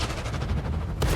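Artillery fire strikes in World of Tanks, a dense, continuous rumbling barrage that swells into a sharper impact near the end, loud and close with no talk.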